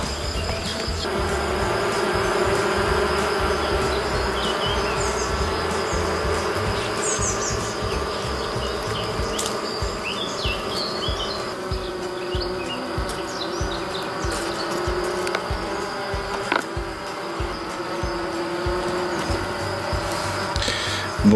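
Black honey bees hum densely around an open hive during a colony inspection, a loud, continuous close-up buzz with individual bees droning past, no voices heard.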